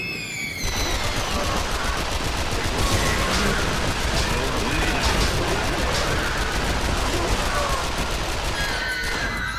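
Rapid automatic gunfire rattles continuously at a shooting target in the video game Yakuza, a dense loud fusillade of bursts lasting nearly the whole stretch with no pauses.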